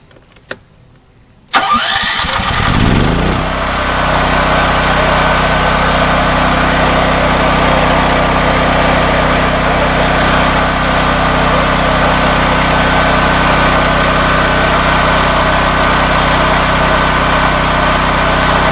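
A Smarter Tools GP7500DEB dual fuel generator, propane or gasoline, cranks briefly after a short quiet moment, catches, and settles into a loud, steady, close-up running drone that holds unbroken to the end.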